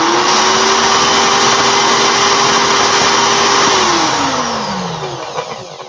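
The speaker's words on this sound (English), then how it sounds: "Put my drill in reverse." Electric drill running in reverse to twist stainless steel vape coil wire, a loud, close, steady motor whine that holds its pitch and then winds down near the end, with no talk.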